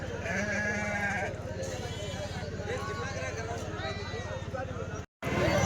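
Old, large sheep bleat in a lively flock at the Kadiri weekly sheep market, several overlapping calls with a steady bustle of livestock and voices around them, close by.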